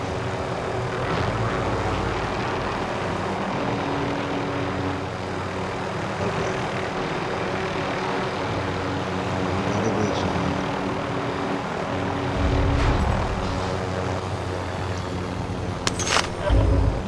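Aircraft engine drone from a helicopter in Call of Duty Warzone, a steady loud rotor-and-engine rumble running throughout, with a brief burst of gunfire or impacts near the end.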